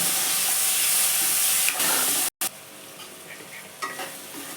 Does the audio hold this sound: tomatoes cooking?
yes